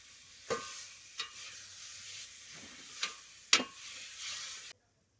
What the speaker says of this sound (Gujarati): હાલો જો શાંતિજીની શાક વઘાર નાખ્યું